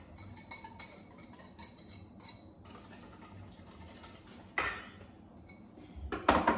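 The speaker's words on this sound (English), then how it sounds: "Give it a good whisk." Whisk beating lemon juice with eggs in a bowl for lemon curd, giving quick soft rhythmic metallic clinks and scrapes that turn into louder, brisker rattling near the end.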